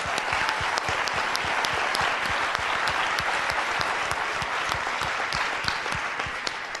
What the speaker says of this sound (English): I want everybody to give her a round of applause.